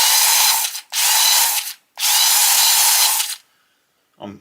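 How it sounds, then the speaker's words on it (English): A Parkside PAS 4 D7 cordless screwdriver fitted with a BBQ air blower accessory runs in three whirring bursts separated by short pauses, loud and close with no talking, before a brief faint knock at the end. "When you press the trigger, air is coming out the end here. It's actually quite a good flow of air."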